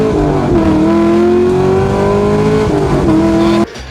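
A loud cammed Chevrolet Camaro engine holds a steady, rumbling drone close by, with small dips in pitch, then cuts off sharply near the end.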